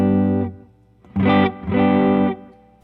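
A distorted electric guitar, an Epiphone '59 Les Paul on its neck pickup, rings out a sustained chord, then two more loud, thick chords are strummed and held, with no one talking.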